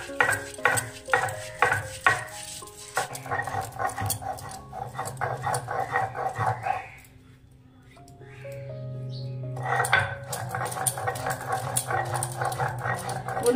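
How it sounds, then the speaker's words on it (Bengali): Poppy seeds being ground with a little water on a stone slab, a series of rhythmic scraping strokes up close, pausing briefly in the middle before the grinding resumes. "এবার পোস্তটা আমি বেটে নেব অল্প অল্প জল দিয়ে"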